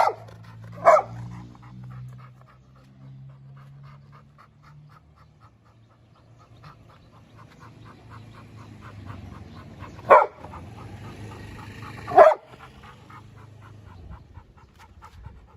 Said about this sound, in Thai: เห่าอะไรเนี่ยฮะ เห่าอะไร เห่าอะไรเดี๋ยวไม่ให้ออกมาข้างนอกนะ